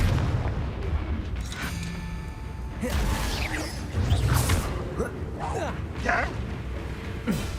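Arresto Momentum spell cast in Hogwarts Legacy, a layered magical burst with whooshing, mechanical creaks and booming thuds amid game effects, with speech present in the mix.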